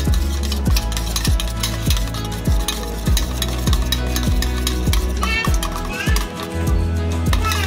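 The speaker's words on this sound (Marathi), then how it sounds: "आता अंड छान मिक्स करायचं, मिक्स करायचं ना, फेटून घ्यायचं" Eggs are beaten briskly in a bowl for kids' tiffin pancakes, with rapid rhythmic clinks of the utensil against the bowl repeating steadily and close, while someone speaks over it.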